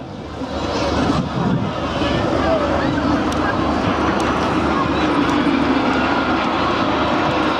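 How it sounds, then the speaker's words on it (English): A UT-1 two-seat trainer jet flies low past the pier at the Clacton-on-Sea air show in Essex, a loud, steady broadband roar that fills the whole stretch with a touch of wind rumble. "the designation of this aircraft is UT-1, which shows that it is actually a two-seat trainer aircraft"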